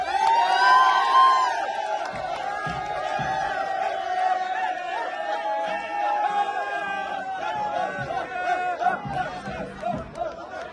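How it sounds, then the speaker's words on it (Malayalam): A crowd cheers and shouts at the inauguration of a two-storey building, lively festive roaring with whoops and chatter throughout, with voices and possible music layered over it. "കൈയടി കൈയടി കൈയടിക്കോ"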